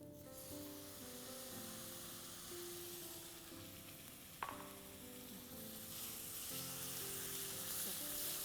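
Masala fries in oil with curd added for a gobhi musallam gravy, a soft steady sizzle with faint stirring scrapes and one sharp clink midway.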